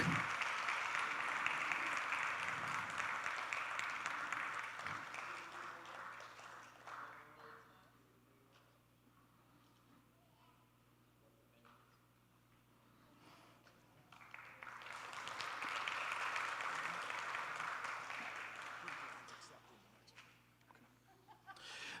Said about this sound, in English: Give it up for him. Round of applause.